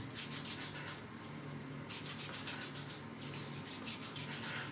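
Soft rhythmic rubbing of hands massaging shaving cream into a beard and skin, quiet repeated strokes close up with no talking.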